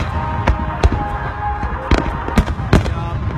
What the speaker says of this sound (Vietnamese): Pháo hoa ở đây nó bắn theo dưới một nền nhạc.